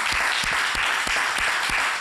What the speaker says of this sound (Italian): un mare di applausi per lui